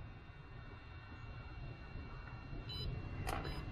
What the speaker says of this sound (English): It beeps which it's doing